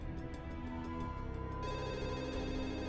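A telephone rings in steady, repeated bursts at moderate level over a constant background hum, with no speech.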